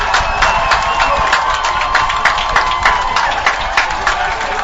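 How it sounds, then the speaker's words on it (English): Loud stadium crowd at a Canadian university football game between St. Francis Xavier and Mount Allison, roaring and cheering after a touchdown, with steady noise and regular rhythmic claps or thumps throughout, a commentator's voice faintly mixed in. "the crowd is going wild"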